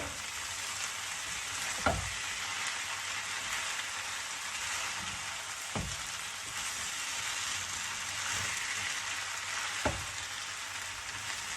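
Vegetables and seafood fry in a wok, a steady hissing sizzle like rain, with three sharp utensil knocks spaced several seconds apart as the food is stirred.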